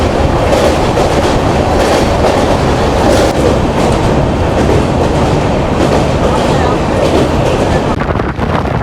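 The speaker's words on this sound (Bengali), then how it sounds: "আর এখন আমাদের ট্রেন দেখতে পাচ্ছ দক্ষিণেশ্বর মন্দির পার করে যাচ্ছে।" The Sealdah Humsafar Express runs on rails near Dakshineswar, a loud, steady rumble of wheels with clickety-clack rhythm heard from inside the train throughout.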